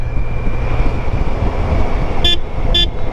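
Two quick, bright horn beeps from a motorcycle sound close together near the end, over a loud, steady engine rumble.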